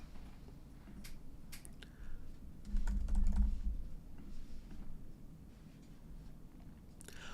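Typing on a computer keyboard, a soft, steady patter of light key clicks at close range, continuous over a faint background hum.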